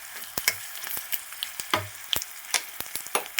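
Cumin seeds frying in oil in a pan for hotel-style coconut chutney: faint sizzling under a scattering of sharp crackles and pops, with soft scraping stirs, close and without talk.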